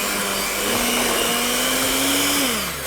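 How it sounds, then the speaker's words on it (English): An electric whisk hums steadily as it blends maple syrup into a cream-cheese frosting. The motor pitch holds level, then drops as it winds down near the end, close and loud with no voices. "And just whisk that in."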